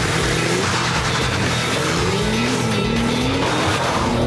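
Porsche 911 GT2 launching hard from a launch-control start, engine held near 5,000 rpm then dropped onto the clutch, a loud continuous roar with rising engine pitch and a hint of tire noise.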